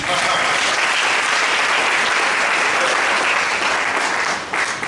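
A church congregation at a worship service breaks into loud, sustained applause, a dense wash of clapping from a large crowd with voices mixed in, easing off slightly at the end.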